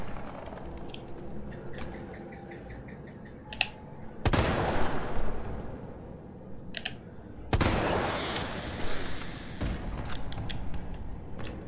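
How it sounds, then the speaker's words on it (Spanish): Two sharp, loud gunshots in Resident Evil 3, each followed by a noisy rattling burst, with clicks and mechanical creaks in between. "Diantre, señorita, dos balazos."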